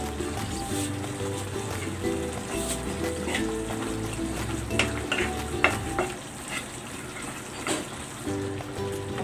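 Onions stirred into a frying pan with bangus steak and pechay, a steady sizzle and scraping stir running throughout with occasional louder clatter and spatula knocks, close and continuous.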